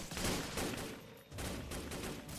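Rattling bursts of automatic gunfire sound at a middle distance during a video game tank battle, forming a brief, fairly faint fusillade with a short pause partway through.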